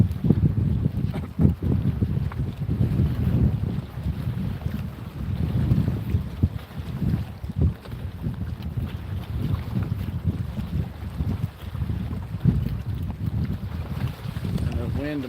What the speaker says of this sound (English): Enough wind to mess us up.